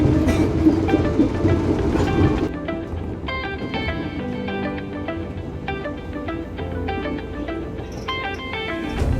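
Commuter train ride between Tanah Abang and Manggarai stations, a steady rolling rumble inside the carriage with rhythmic rail clatter, loud and continuous, with no talk heard.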